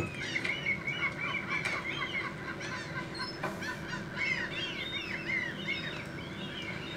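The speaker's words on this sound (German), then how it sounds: "Ja, ja, die Möwen im Hintergrund." Gulls call repeatedly in the background of The Sims 3 video game, a busy, honking flock chorus that stays fairly constant and mid-distance, with no talking over it.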